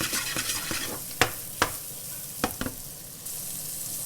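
Mushrooms frying in butter in a pan, a steady sizzle broken by several sharp clicks and scrapes of stirring, with the frying growing louder near the end.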